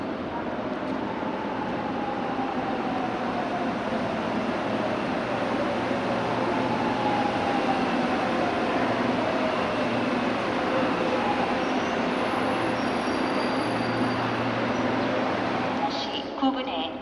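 A Nuriro passenger train pulls into platform 3 at a railway station, a loud, continuous rumble with wheel and rail noise and a faint high squeal throughout, while a public-address announcement plays over it.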